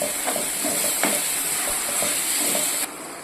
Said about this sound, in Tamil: ஒரு 2 மினிட்ஸ் வதங்குறோம். கிளறி விட்டுக்கிட்டே இருங்க.